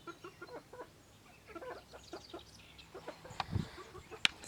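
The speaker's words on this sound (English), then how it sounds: "these are our Americana birds" Americana chickens cluck in a garden yard, a scatter of soft, close clucks and murmurs across the stretch with a couple of sharper squawks near the end.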